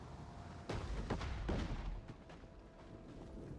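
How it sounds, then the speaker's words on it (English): Easterling onagers in a Lord of the Rings strategy game hurl stones at a siege tower, producing a few heavy, booming thuds in quick succession, fairly loud, followed by a fading rumble, with no voices. "Now we got the Easterling onagers firing. They're trying to hit the siege tower here."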